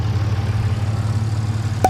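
A car engine with a freshly cleaned and re-oiled intake filter runs at a steady, low idle, a close and even rumble; no clear revving is heard.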